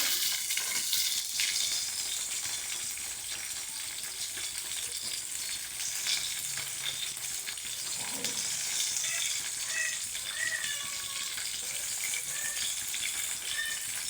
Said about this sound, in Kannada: ಈಗ ಈರುಳ್ಳಿ ಹಾಕ್ಕೊತಾ ಇದ್ದೀನಿ.